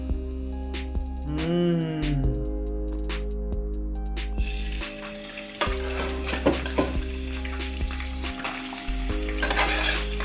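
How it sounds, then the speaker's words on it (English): Minced meat browning in a pan for lasagna, with steady loud sizzling and spitting fat throughout, plus occasional scraping and clinking of a utensil stirring against the pan. "So the mincemeat is now ready to be browned. Prepare yourself as it spits fire."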